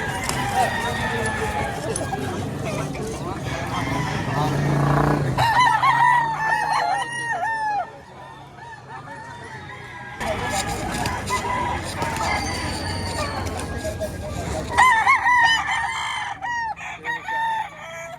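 Several roosters crowing repeatedly at close range, with hens clucking amid a busy, noisy background of voices and chatter at an auction market in Lipa City, Philippines.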